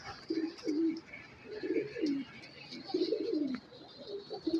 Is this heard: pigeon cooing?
yes